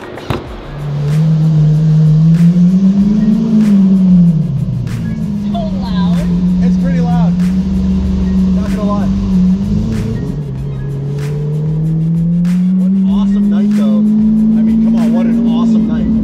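A straight-piped Lamborghini Aventador Roadster drives along with a loud, deep engine drone that rises and dips gently with throttle, heard from inside with brief voices over it.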